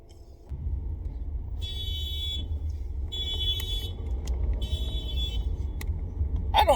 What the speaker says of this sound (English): Like you're literally at your car and your alarm goes off with you touching the handle.